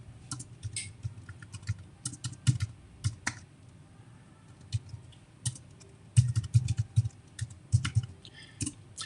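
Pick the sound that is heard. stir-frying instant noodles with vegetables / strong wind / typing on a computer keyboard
typing on a computer keyboard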